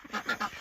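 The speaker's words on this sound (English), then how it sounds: "we have the Harlequin, Welsh Harlequin ducks separated" Welsh Harlequin ducks quack in a quick burst of three or four close, moderately loud calls, with no one talking.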